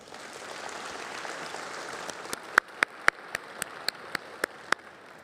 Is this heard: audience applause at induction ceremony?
yes